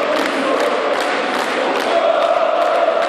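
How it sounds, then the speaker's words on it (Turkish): A basketball arena crowd chants and roars together for player Yusuf as he steps onto the court at Galatasaray, a dense, continuous wall of voices that stays steady throughout. "Parkeye çıktığında ise tribünler hep bir ağızdan Yusuf için tezahürat yapıyordu."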